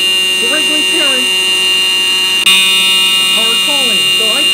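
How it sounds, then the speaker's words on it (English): A school fire alarm rings loud and continuous with a harsh buzzing tone, while a voice speaks over it throughout. "I'm very sorry to pull the fire alarm."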